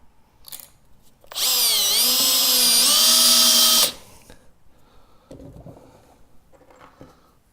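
A power drill drives drywall screws into a rolling tool cart's bracing, giving one loud, close whine of about two and a half seconds that dips in pitch as the screw bites, with soft handling noises after.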